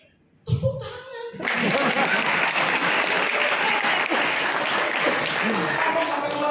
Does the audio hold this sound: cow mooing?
no